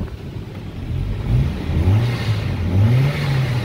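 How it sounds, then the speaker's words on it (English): A 2006 GMC Canyon extended-cab pickup's engine revs up in a few rising pulls, near and loud, alone without talk. "I'll rev it up for you."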